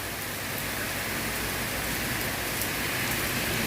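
Steady afternoon rain pours down on a street in Taling Chan, Bangkok, a dense, constant hiss of drops hitting surfaces, close and even throughout with no voices.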